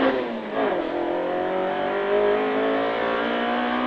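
A rally car at a Belgian criterium runs flat out, its engine note climbing steadily through the revs in a loud, sustained howl, with a brief dip early on before pulling hard again.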